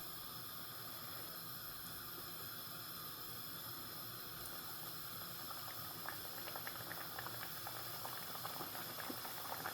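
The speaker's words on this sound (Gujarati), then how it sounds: "તો ચાલો તેલ આવી ગયું છે. હવે આપણે મુઠિયા નાખવાનું ચાલુ કરી દઈએ." Churma muthiya dough frying in hot oil, a steady, low-level bubbling sizzle with a hiss, and small crackling pops growing in the last few seconds, heard close with no talk.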